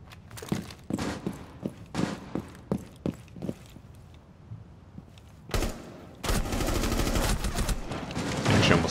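Video game gunfire rings out as a string of sharp single shots, then a pause, then a sudden sustained burst of rapid fire that runs loud to the end.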